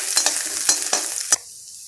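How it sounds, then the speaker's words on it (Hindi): Cumin, green chili and grated ginger fry in a pan, a steady sizzle broken by several sharp stirring scrapes before the sound drops away abruptly. "जीरा यहाँ पर हमारा पक चुका है तो इसमें कद्दूकस किया हुआ अदरक डाल देंगे। हल्का सा फ्राई कर लेंगे।"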